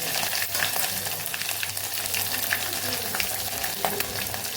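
Cumin, mustard seeds, curry leaves and green chilies crackle and sizzle in hot oil with a continuous bright spitting hiss, close and steady, with small popping bursts scattered throughout.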